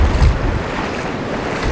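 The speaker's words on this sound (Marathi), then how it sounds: "पाठीमागे पूर्ण पाणी आहे आणि समुद्र पूर्ण खवळलेला आहे" Rough, choppy sea waves roar and wash around a fishing boat, a loud, continuous surf mixed with wind buffeting the microphone, with no voices.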